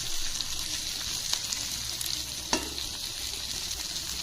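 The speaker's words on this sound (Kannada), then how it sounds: "ಇಷ್ಟು ಹಾಕ್ಬಿಟ್ಟು ಸ್ವಲ್ಪ ಚೆನ್ನಾಗಿ ಫ್ರೈ ಮಾಡ್ತೀನಿ." Dry red chillies and garlic fry in hot oil in a pan for Andhra-style dal, giving a steady close sizzle broken by a few sharp spatters and light stirring clicks.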